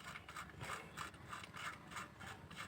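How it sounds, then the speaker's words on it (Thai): Bolts threaded and tightened onto the engine oil cover of a Kubota tractor with a ratcheting wrench, quiet repeated clicking strokes in a steady rhythm, close and faint with low background hum. "ใส่น็อตสองตัวปิด ถังน้ำมันเครื่องเรียบร้อยนะครับ"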